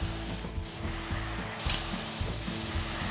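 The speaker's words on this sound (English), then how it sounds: "This is a very, very hot pan, and I'm going to add the whiskey." Whiskey poured over beef tips in a very hot pan sizzles and fries in a steady close hiss, with a brief sharp flare and soft stirring scrapes and no voices.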